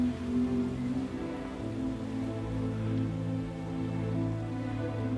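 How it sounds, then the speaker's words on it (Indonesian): Heavy rain pours down steadily, a dense, constant roar of water drumming on surfaces that stays loud and even throughout with no voices. "hujan yang mengguyur terasa semakin deras"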